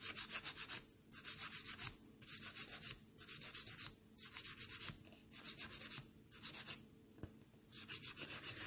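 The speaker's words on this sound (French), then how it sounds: "on va venir faire un limage diamant" A gel nail being filed with a diamond file, close rasping strokes in short regular bursts separated by brief pauses, quiet and without voices.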